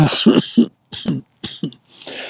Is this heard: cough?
yes